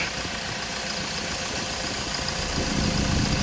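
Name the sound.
Hyundai Porter 2.5 diesel engine idling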